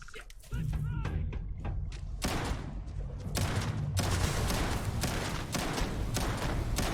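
Explosions in the space game Starfield go off as sharp, loud blasts, with heavy booming bursts around two and four seconds into a dense stretch of rapid gunfire and thuds.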